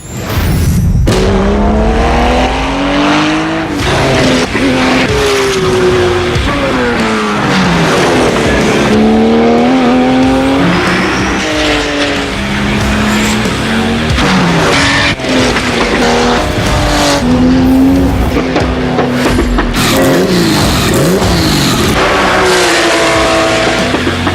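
Porsche race car driven hard on a track, engine loud and close throughout, revving up and down through gear changes with rising and falling pitch sweeps and occasional tire squeal, no talk.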